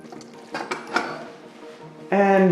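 Macaroni and cheese stirred in a pot, a few soft scraping clinks of a utensil against the pot early on, then a sudden louder sustained tonal sound at the end.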